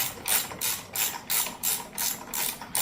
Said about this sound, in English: Just get your ratchet, break this bolt loose right here